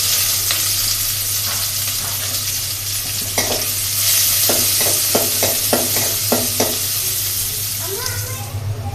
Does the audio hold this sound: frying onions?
yes